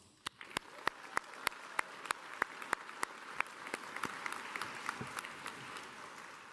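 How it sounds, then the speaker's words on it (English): A graduation ceremony crowd applauding, with a rhythmic clap in the foreground standing out from a steady wash of clapping that continues throughout. "let's start by giving yourselves a round of applause."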